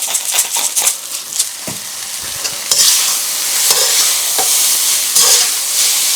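Chow mein noodles with chicken stir-fried over very high heat sizzle loudly in the pan, broken by quick scraping tosses and clattering stirs that come in bursts before settling into a continuous hissing fry.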